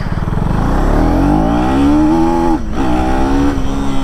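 A KTM Duke 250 motorcycle accelerates hard in first gear, its engine note climbing steadily in pitch, loud and close, then dipping briefly at a shift or throttle lift before rising again.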